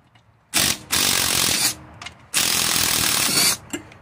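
Half-inch ratchet wrench loosening the engine mounting bolt on a Toro Recycler lawnmower: two long bursts of rapid clicking ratchet, each about a second, with short quiet gaps and faint handling noises between.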